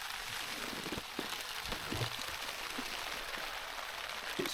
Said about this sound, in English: it's just the pitter-patter of rain